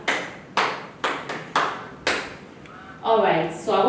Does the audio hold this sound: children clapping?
yes